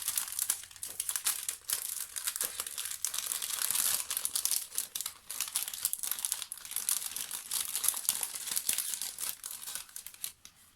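Paper cutouts and a red ribbon in a mail-in contest package crinkle and rustle steadily as the sachet is pulled open, a dense close crumpling with small tearing bits and no talk.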